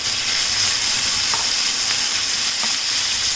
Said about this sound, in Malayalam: ഇതിലേക്ക് നമുക്ക് ഈ മാരിനേറ്റ് ചെയ്ത് വെച്ചിരിക്കുന്ന ചിക്കൻ പീസസ് ഇട്ടിട്ട് ഒന്ന് ഫ്രൈ ചെയ്തെടുക്കാം